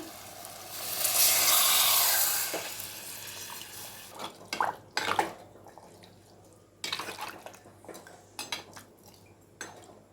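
Tamarind water pours steadily into a pot for a couple of seconds, followed by scattered clinks and clatters of cookware and utensils.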